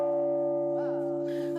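The renovated carillon bell of the Bergues belfry rings in a single long, sustained tone with steady overtones, fairly close and unbroken, with faint other sounds entering near the end.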